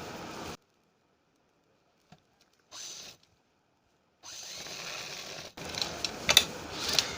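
A sewing machine stitches along the centre of a round neckline in short separated bursts, with a brief run near the start, another in the middle and a longer, busier stretch toward the end, close and moderately loud.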